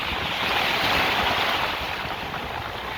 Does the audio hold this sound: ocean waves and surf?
yes